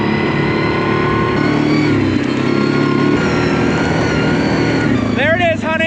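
A quad ATV engine runs steadily and loud throughout at a scrap-metal site, with a whining, sweeping pitch change near the end and people talking over the drone.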